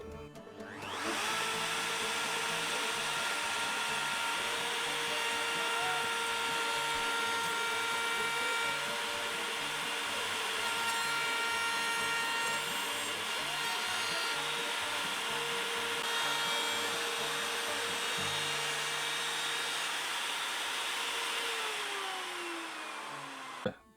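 A wood router cutting a pass along a mirror frame: high steady whine from spin-up to spin-down, continuous and loud for about twenty seconds, then a falling pitch as it winds down, no speech.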